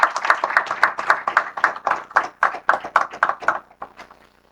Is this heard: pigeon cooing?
no